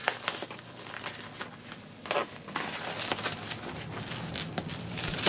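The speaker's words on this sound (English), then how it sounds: "You pull the cellophane off." Cellophane wrapper being pulled off a vinyl record, a close, continuous crinkling and tearing that swells in bursts and keeps going without pause, no talk.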